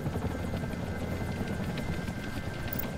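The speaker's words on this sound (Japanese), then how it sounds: "あのヘリを落とせ。" Helicopter in the Xbox 360 game Tom Clancy's EndWar, a steady, loud rotor drone with dense low chopping that holds evenly for the full stretch, with no talk over it.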